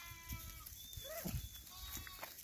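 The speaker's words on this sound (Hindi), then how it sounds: "सिरोही नस्ल की भी बकरी तैयार की है भाई लोग।" A Sirohi breed goat on a Chhattisgarh livestock farm gives a quavering bleat, fairly close over faint farmyard background noise, with a few softer animal calls around it.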